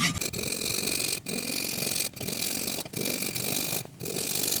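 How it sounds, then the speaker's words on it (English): A hand saw cuts an incision all the way around a piece of wood while making a bushcraft mallet, rasping steadily up close in repeated strokes with brief pauses between them. "make an incision the whole way around this piece of wood"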